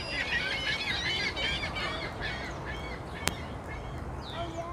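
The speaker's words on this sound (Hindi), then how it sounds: "ये वाले बगले जो, ये इसी वक्त इस तरह चीखते रहते हैं" White egrets at Lincoln Park Zoo in Chicago screech over and over in harsh, overlapping calls, with steady outdoor background noise beneath them and no voices.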